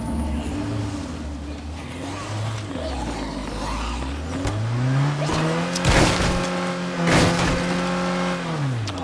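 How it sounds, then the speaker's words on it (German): In the video game State of Decay 2, a car engine revs up and down as it drives, rising in pitch while accelerating, with a couple of harsher bursts and no talk. "Oh, ich krieg die Kurve nicht mit dem Auto hier."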